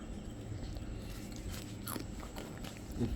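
Biting and crunching into crispy fried fish, a few close crackly crunches over a steady background murmur, with no talk during the bites.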